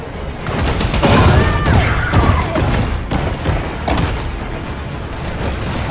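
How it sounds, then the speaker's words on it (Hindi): Dense bursts of gunfire in a shark video game, loud booming volleys and thuds running continuously with no pause. "भाई इनकी गोलियां तो खतरनाक हैं."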